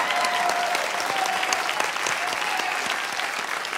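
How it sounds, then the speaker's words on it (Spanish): A studio audience at a Cuban comedy television show breaks into loud, sustained applause, dense clapping filling the room for several seconds, with a faint voice underneath. "Un aplauso."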